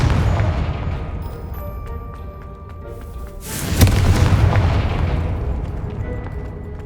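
In Hogwarts Legacy, the Confringo fire-blast spell lands with a deep, rumbling explosion midway, rising out of a low magical ambient hum with chiming tones and then fading into a lingering crackle.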